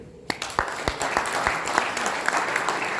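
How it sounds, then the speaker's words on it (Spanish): Steady applause from an audience fills the room, many hands clapping at once with a few sharper claps standing out, continuing without pause. "pido el primer aplauso del día"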